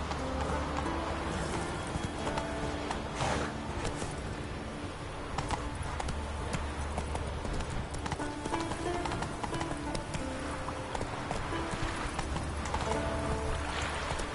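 Roach the horse gallops in The Witcher 3 on Skellige, a continuous rapid clip-clop of hooves at a steady, near rhythm with game ambience underneath and no talk.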